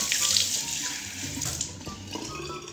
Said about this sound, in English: Time to wash my face.